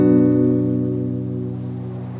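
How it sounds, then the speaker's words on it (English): A single B barre chord strummed once on a guitar, ringing out clearly and fading slowly over about two seconds with no other sounds. "And that is a B bar chord."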